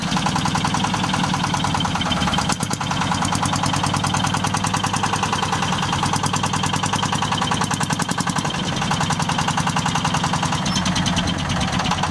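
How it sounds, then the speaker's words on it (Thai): Thai E-taen farm vehicle engine, a Jumbo Rambo model, running close by with a rapid, steady mechanical knock and brief dips in throttle, idling and revving without talk. "เราสามารถเร่งเครื่องเบาเครื่องได้นะคะ"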